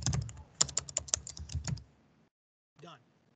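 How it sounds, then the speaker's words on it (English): Rapid typing on a computer keyboard, a dense run of close, sharp clicks for about two seconds, then a pause and a brief murmur of voice near the end. "my typing is terrible today"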